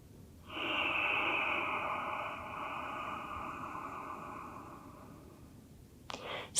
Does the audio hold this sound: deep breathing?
yes